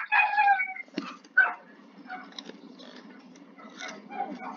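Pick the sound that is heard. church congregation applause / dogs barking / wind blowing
dogs barking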